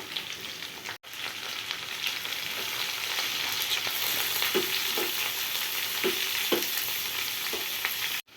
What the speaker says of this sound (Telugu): ఇవి పచ్చిమిర్చి ఫ్రై అయిన తర్వాత అండి ఇవి తురుముకున్న ముల్లంగి వేసుకోవాలి